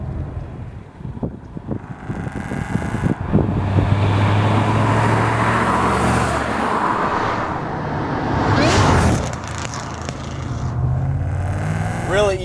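A 600 hp Shelby Mustang GT500 with a big, heavy engine rumbles while driving, with a low droning note that climbs and falls through rev changes alongside road and wind noise, and a voice briefly speaks near the end.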